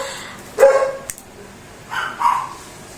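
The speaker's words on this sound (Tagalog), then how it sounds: "ang ingay pa ng aking aso." A pet dog barks indoors at home, two separate bursts of loud, close barking a second or so apart, with quiet room tone between them.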